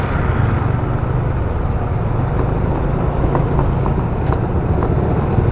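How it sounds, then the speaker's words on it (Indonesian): Long afternoon traffic jam at the Simpang Aksara intersection in Medan, a steady loud wash of idling and creeping engines with faint intermittent clicks and ticks on top, close and continuous. "Macet panjang nih guys."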